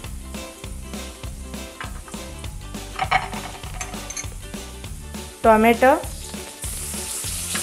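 Spice pastes with turmeric and tomato frying in a pan for a banana flower and poppy seed dish, a continuous sizzle with rhythmic scraping of stirring, and a voice briefly speaking over it.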